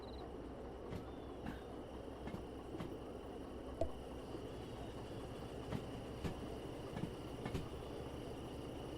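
Train rolling steadily in the railway game Derail Valley, a constant low rumble with regular faint clicks of wheels over rail joints, no talking.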